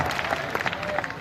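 Applause from an audience at a Hindi poetry recital (kavi sammelan) in Bareilly: a brief, modest patter of scattered claps from the crowd, heard under a voice.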